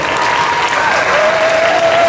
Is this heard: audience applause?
yes